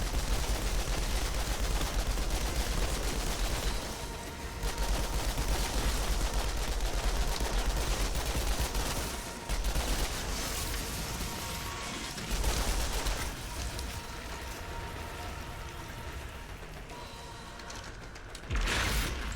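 Rapid gunfire in the video game Outriders, dense and continuous bursts of shots with mechanical clatter, loud throughout with brief dips between volleys.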